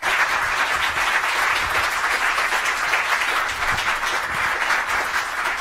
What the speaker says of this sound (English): I don't want to interrupt the very deserved applause of the Prime Minister